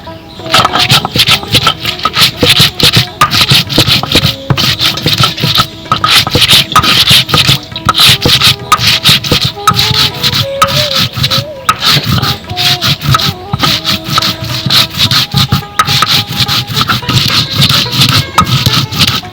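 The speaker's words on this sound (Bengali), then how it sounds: "এখন আমি ধনে আর জিরে বেটে নেব জল দিয়ে দেবো" Coriander and cumin seeds are ground with water in loud, close, rhythmic scraping strokes that repeat steadily throughout.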